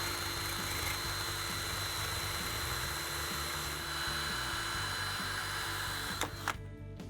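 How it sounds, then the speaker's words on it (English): A power drill runs continuously while cutting through a bolt, giving a steady mechanical whir and grinding hum with a faint rhythmic pulse, fairly close, ending with a couple of brief clicks. "we're going to use the power of the drill to help cut through this bolt"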